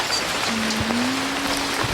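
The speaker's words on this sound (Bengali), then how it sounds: "গ্রামীণ এই বৃষ্টিতে ভিজা অসাধারণ প্রকৃতি" Steady rain falls over a rural village in the morning, a dense continuous hiss of drops on surfaces, with a faint low hum running through part of it.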